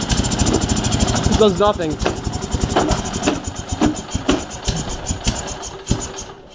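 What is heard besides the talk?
Sears SS16 snowblower engine idling after cold start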